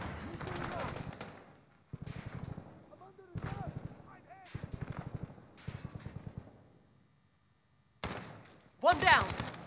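Bursts of rapid automatic gunfire from a Call of Duty Modern Warfare team deathmatch, coming in several loud clusters separated by short gaps, with a heavier blast near the end and players calling out over the shooting.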